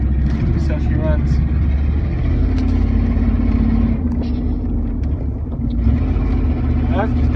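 A Chevrolet Silverado pickup truck drives along with a steady low engine and road rumble, close and continuous, while people talk inside the cab.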